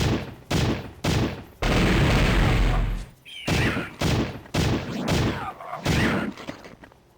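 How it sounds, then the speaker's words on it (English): Explosive skull heads blowing up in the video game Powerslave, a run of loud, booming blasts with bursts of gunfire-like crackle, several separate explosions over a few seconds with brief gaps between them. "Check out this destruction, though. Explosive skull heads."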